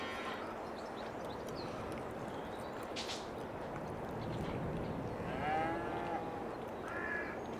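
Cows mooing in the Farming Simulator 22 video game, low and fairly quiet over a steady farmyard ambience, with a couple of drawn-out moos toward the end.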